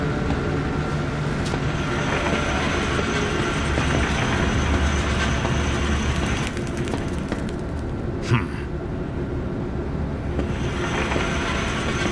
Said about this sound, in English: A train? Trolleys?